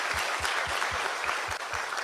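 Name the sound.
audience clapping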